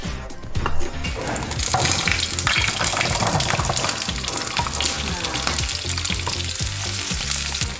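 Shallots and garlic fry in a pan for Indonesian mie ongklok, giving a loud, continuous sizzle and crackle close by, with stirring scrapes and no speech.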